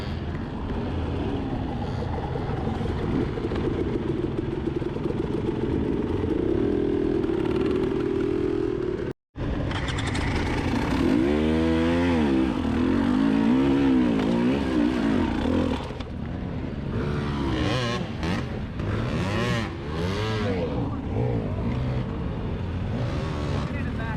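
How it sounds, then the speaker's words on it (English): Dirt bikes climbing a hill during the Moab hard enduro race, a continuous loud roar of many engines with rising and falling revs throughout. "Look at all them dirt bikes up there on that hill."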